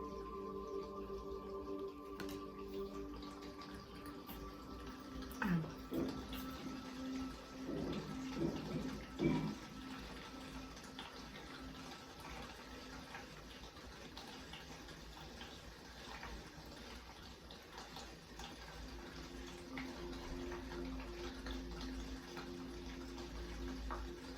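Water runs and flows steadily at low volume, with a few brief louder splashes near the middle and a continuous soft rush throughout.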